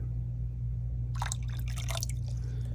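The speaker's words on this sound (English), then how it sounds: "I'm adding a little water at a time," Water is poured slowly into a floating shrimp acclimation bag, a soft burst of splashing and trickling that starts midway over a steady low hum.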